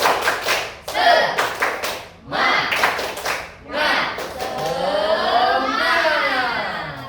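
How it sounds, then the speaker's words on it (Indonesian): A group of schoolchildren and a teacher do a rhythmic spirit clap in a classroom, bursts of loud patterned clapping alternating with chanting voices, ending in sustained group speech. "Semangat, tepuk semangat dulu, tepuk semangat."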